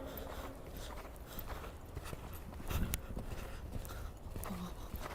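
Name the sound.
horse hooves clip-clopping during riding lesson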